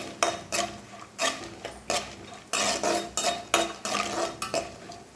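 Nuts roasting in a pan for Diwali somas are stirred with a spoon, making rhythmic scraping and clinking strokes about twice a second over a faint low sizzle, heard alone.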